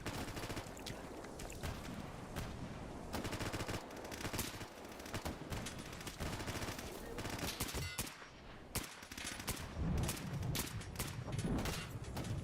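Rapid automatic gunfire in a video game pours into a dead body as dense, continuous bursts over about twelve seconds. The shooting is loud and close with only brief pauses, and no voices are heard.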